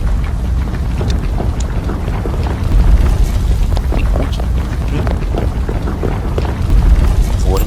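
Fireworks burst repeatedly in the Disaster Island video game, a series of sharp pops and booming cracks scattered over a dense low rumble, fairly loud and close.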